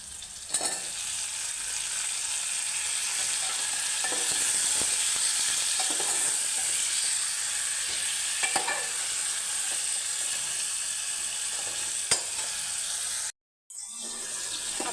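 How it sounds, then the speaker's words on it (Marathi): Steady loud sizzling of drumsticks frying in hot oil tempering, with a few stirring clinks, continuing for a long stretch before cutting off briefly near the end. "आता मी लगेच शेवग्या शेंगा त्यामध्ये टाकते फोडणीत"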